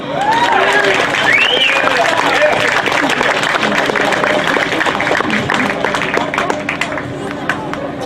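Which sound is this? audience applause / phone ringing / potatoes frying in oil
audience applause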